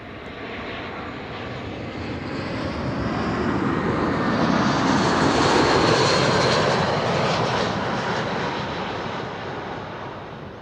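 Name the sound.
BA airliner arriving from London Heathrow at Schiphol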